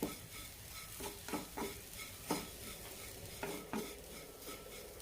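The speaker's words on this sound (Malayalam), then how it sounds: "നന്നായി മിക്സ് ചെയ്യാം." A spoon stirring a sugar mixture in a hot pan for elanchi filling, a quiet soft sizzle broken by a series of distinct scraping strokes at an irregular rhythm, close and faint.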